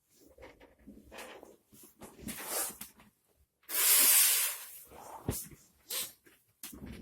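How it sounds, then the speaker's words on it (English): A knife blade from a Kizer budget Tangram Santa Fe slicing through manila rope, brief scraping hisses and soft cuts in short bursts, one loud rushing sweep in the middle, close and otherwise quiet. "So we've got some of this manila rope, and it just slices through that like it's hardly there."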